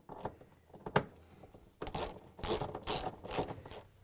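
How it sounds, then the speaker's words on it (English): A 10 mm socket wrench ratchets a bolt on a Samsung washer spider arm assembly, giving several bursts of rapid close clicking, louder and denser in the second half, with a few isolated clicks and knocks before. "with a 10 millimeter socket wrench"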